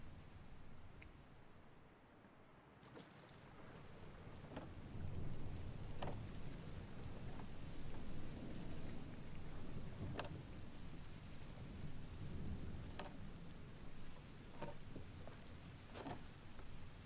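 Steady heavy rain pours down in a stormy outdoor scene, with a broad rumbling wash and several sharp crackles of thunder scattered through it, continuous and fairly loud with no voices.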